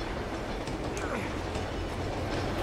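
A train in the Uncharted 2 video game rattles along the tracks, a dense, steady rumble and clatter with faint clicks and squeaks, loud and constant throughout under a quieter voice.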